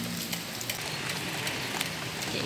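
Steady rain falls during an outdoor mushroom harvest, a continuous patter of drops with faint scattered ticks, fairly close and alone without voices.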